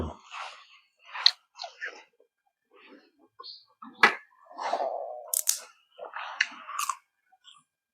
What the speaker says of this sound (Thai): กัดพริกลงไปอ่ะ